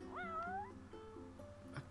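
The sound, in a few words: cat meowing, from video game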